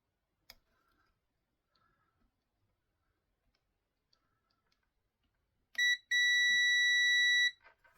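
A multimeter set to continuity mode during a repair of a Baby Brezza control panel gives a short beep and then a steady, loud tone lasting about a second and a half, after a few faint clicks and taps.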